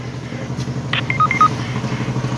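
A phone being dialed, a short series of electronic keypad tones over a steady hum of road traffic or a running engine.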